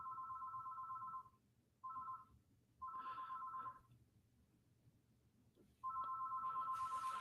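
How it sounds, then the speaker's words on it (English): A telephone rings in repeated bursts of an electronic two-tone trill, separated by short gaps, fairly quiet and close with no talking over it. "And that's a phone ringing."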